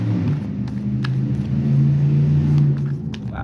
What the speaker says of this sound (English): That was a big truck